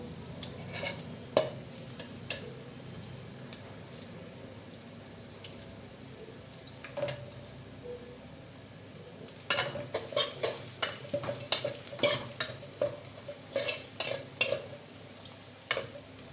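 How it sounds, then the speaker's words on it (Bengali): Onion and garlic fry in hot oil toward crispness, a soft, even sizzle at first that turns busier, with bursts of spattering crackle and light stirring taps later on, and no voices. "পেঁয়াজ রসুন বেরেস্তা করে নেব"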